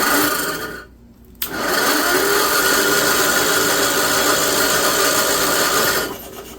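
A replacement pump on a 1958 Wisconsin AENLD engine, revived after 55 years idle, runs with a loud, steady mechanical whir and rasping drone that cuts out briefly near the start and fades at the end.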